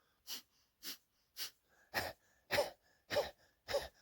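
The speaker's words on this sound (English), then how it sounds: "I'm going to have you start with almost you're panting like a dog with your tongue out" Breath of fire yoga breathing: seven forceful, even exhalation bursts about half a second apart, close and fairly loud, with quiet gaps between and no talking.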